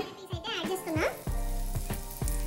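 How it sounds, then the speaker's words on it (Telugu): Sliced brinjal frying in hot oil in a pan over a medium-to-low flame: a steady close sizzle with a few soft clicks and scrapes as the pieces are turned. "కొంచెం మీడియం టు లో ఫ్లేమ్ లోనే వేయించండి"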